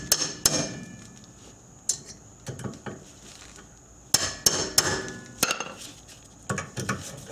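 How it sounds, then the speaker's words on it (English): Sharp metallic hammer blows on a hand impact driver seated on a parking brake fastener of an Acura TL, struck in irregular bursts of two or three hits with pauses between, close and loud, with no talking. "Firmly on there, hit the tool and rotate counterclockwise like you're removing"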